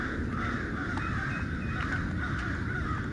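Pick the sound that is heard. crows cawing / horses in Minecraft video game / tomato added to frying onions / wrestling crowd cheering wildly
crows cawing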